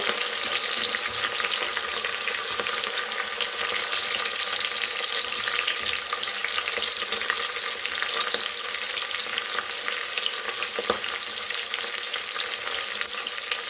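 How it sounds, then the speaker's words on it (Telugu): Green chillies and finely chopped onions frying in a pan with coconut-rice masala, a steady, dense sizzle that runs on without a break, close and moderately loud. "ఇలా దోరగా వేగుతున్నప్పుడే ఇందులో పచ్చిమిర్చి అలాగే సన్నగా తరిగి పెట్టుకున్న ఉల్లిపాయ ముక్కలు"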